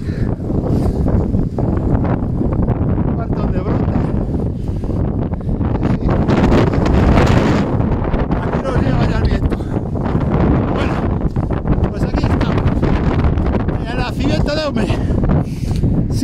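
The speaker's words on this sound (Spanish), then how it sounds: "ráfagas de viento muy fuertes" Strong wind gusts buffeting the microphone at the source of the river Eume in the Sierra del Sistral, a loud continuous roar with rumbling surges that swamp everything, while a voice is partly heard beneath it.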